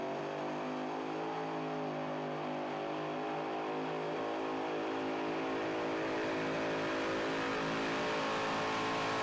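A mini rod pulling tractor with a setback blower engine revs in a continuous loud roar, heard from a distance at an outdoor truck and tractor pull, with no talk over it.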